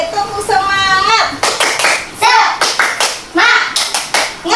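Schoolchildren in a classroom doing the rhythmic 'tepuk semangat' clapping chant, short bursts of sharp patterned claps alternating with children's voices chanting in unison, close and loud.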